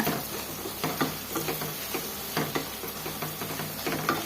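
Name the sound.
spices and capsicum rice masala frying in oil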